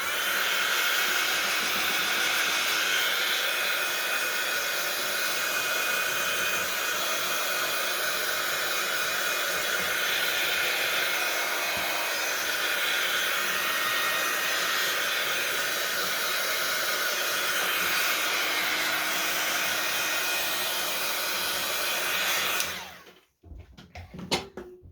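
Heat tool drying altered journal signature pages, a steady loud blowing hiss that runs unbroken for over twenty seconds before cutting off abruptly, followed by a few faint handling sounds.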